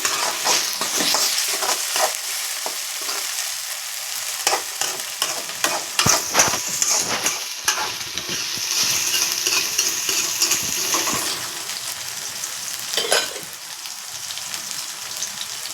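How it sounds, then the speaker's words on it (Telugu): Ginger garlic paste fries in a pan for a beans gravy curry, a steady close hiss of sizzling oil broken by repeated scraping stirs, with no voices. "పచ్చి వాసన పోయేదాకా బాగా వేగాలండి ఇది అల్లం వెల్లుల్లి పేస్ట్"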